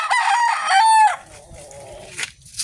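A bulik-feathered fighting rooster crows once, loud and near, the call rising and then trailing off into quiet farmyard noise.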